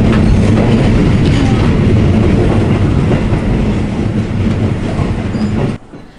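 Train ride in Japan, a steady loud rumble of rolling wagons with faint clickety-clack of wheels on rails, continuing evenly before cutting off abruptly near the end.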